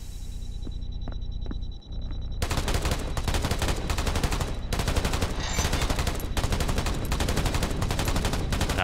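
Rapid gunfire in the video game Black the Fall: a steady hum gives way to a loud, continuous, machine-gun-like stream of shots that keeps going with only brief gaps.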